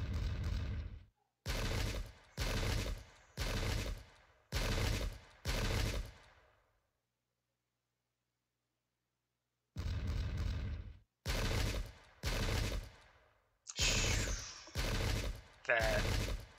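Musket volleys in the strategy game Pike and Shot, a run of loud, evenly spaced booming gunfire bursts, each a crackling volley about a second long, broken by a few seconds of silence before the firing resumes.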